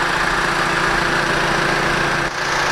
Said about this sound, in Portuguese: Motor funcionando muito bem.